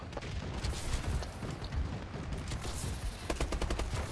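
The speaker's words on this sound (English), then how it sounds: "Friendly bombing run clearing the way." Friendly bombing-run airstrike in Call of Duty, a dense rolling barrage of rapid explosive blasts and gunfire-like cracks that runs steadily and loudly throughout without letup.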